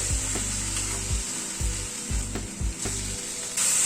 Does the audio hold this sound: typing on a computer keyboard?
no